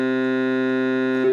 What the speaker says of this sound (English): now if you put the bassoon switch on, it's going to sound down 1 octave, and it sounds like this